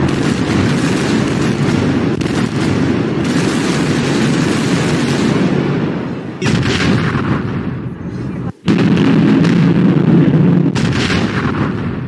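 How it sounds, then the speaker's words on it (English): Missiles exploding in a violent barrage at a military equipment depot, a dense, continuous roar of rapid blasts and rumbling booms, loud and sustained with only brief dips. "The missiles exploded in a startling, violent barrage."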